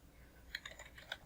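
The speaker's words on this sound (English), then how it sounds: "typing it directly into the address bar" Quiet clicks of a computer keyboard as a web address is typed, a handful of light, uneven keystrokes close by over a faint room hum.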